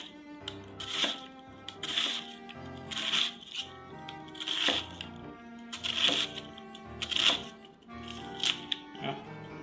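A knife slices and dices avocado on a board in sharp, rhythmic bursts of quick cuts with short pauses between them, close and crisp.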